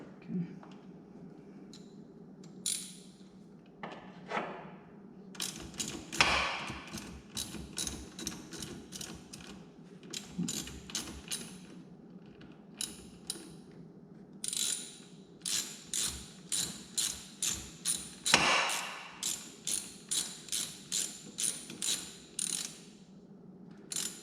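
A ratchet clicks repeatedly while tightening the soft-metal battery terminal clamp on a Lamborghini Gallardo, with bursts of rapid, close ratcheting strokes that grow steadier and evenly paced toward the end.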